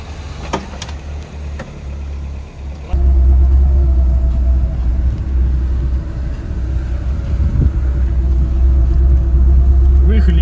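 Niva and GAZ-69 off-road vehicles driving on a rough trophy trail, their engines giving a steady low rumble that rises and grows louder after a short opening stretch, with faint knocks and speech mixed in.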